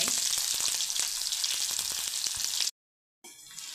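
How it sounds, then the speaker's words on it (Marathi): Cut green chilies sautéing in hot oil in a pan, a loud continuous crackling sizzle with sharp pops, cutting off abruptly into silence before a quieter sizzle resumes. "मिरची थोडीशी परतवून घेतली हलकीशी डाग पडेपर्यंत"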